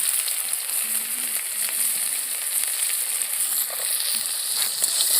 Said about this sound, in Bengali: ভালো করে ভেজে নেবো পেঁয়াজগুলো।